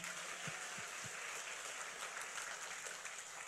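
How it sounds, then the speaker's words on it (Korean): A church congregation applauds during a worship service, dense sustained clapping from many hands, fairly distant and even throughout. "오늘 모두 문제를 해결해 주신 우리 하나님께 박수로 영광 돌립니다"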